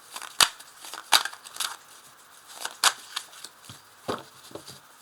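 Tarot cards are shuffled and drawn by hand, giving a string of sharp, close papery snaps and riffles at an irregular rhythm over about five seconds, with no talking.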